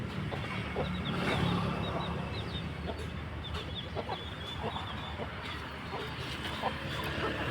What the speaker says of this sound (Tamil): கோழிலாம் நல்லா இருக்குங்களா?